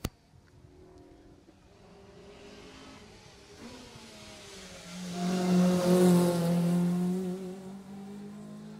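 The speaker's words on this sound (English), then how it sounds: "Car 57's just come past us, James Weaver and Teresa Butler." A rally car on a closed stage of the Jersey Rally 2018 approaches with a rising engine note, roars past loudly near the five-to-seven-second mark with strong harmonic whine, then fades as it drives away.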